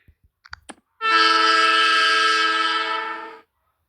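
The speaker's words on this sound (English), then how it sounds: "Train horn. 2 seconds, row 4, column 1." Soft clicks precede a loud, steady train horn ringtone blast lasting a couple of seconds, then it stops abruptly into silence.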